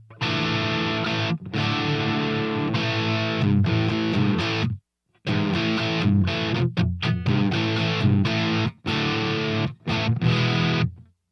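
Distorted electric guitar chords and riffs from a Les Paul played through a GE300 amp modeler set to a Marshall Plexi sound, loud and up close, with brief pauses and choppy stops between phrases.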